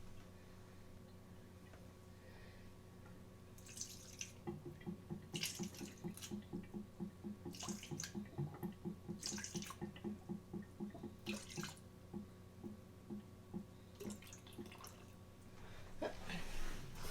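Water runs from a tap for sourdough English muffin dough, a steady close trickle with a rhythmic ticking pulse through the middle and brief louder splashes at intervals.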